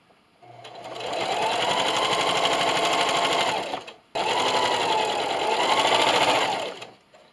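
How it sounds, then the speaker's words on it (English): A sewing machine sews down fabric strips on a quilt-as-you-go table runner, two loud sustained runs of rapid stitching split by a brief pause. "Now when I'm sewing down these strips"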